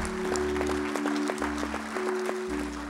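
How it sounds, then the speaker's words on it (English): A church congregation giving a hand clap of praise during a Sunday service, a short round of applause from the room over a sustained organ or keyboard chord. "Let's start out by just giving the Lord a hand clap of praise."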